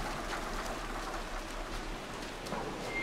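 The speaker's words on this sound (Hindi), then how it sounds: "बारिश, वो थंडर स्टॉर्म" Steady rain from a video game thunderstorm falls without pause, a dense hiss of drops spread evenly across the whole stretch, with no clear thunder rolling through.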